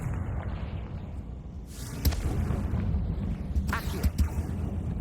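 A Confringo fire spell in Hogwarts Legacy bursts into booming blasts, a low rumble punctuated by sharp explosive cracks and whooshes near the middle and end, with game noise underneath.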